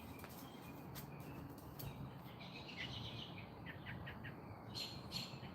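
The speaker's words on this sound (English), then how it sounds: "Can you hear the birds? They're like having an argument or something." Several birds call and squawk back and forth outdoors, sharp chirps overlapping like a noisy argument, moderately close over a steady background hiss with no talking.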